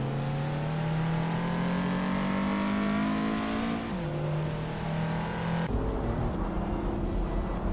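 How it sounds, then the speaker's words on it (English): A 1990 Lotus Carlton racing engine revs hard, its pitch climbing steadily before dropping at two quick gear changes, loud and close throughout. "Maya is driving a 1990 Lotus Carlton, currently in the 13th place."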